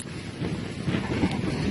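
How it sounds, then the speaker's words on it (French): Wind blowing outdoors, gusting across the microphone as a steady low rumble and broad hiss that swells slightly, with no other distinct sounds above it. "il y a du vent, il y a du vent"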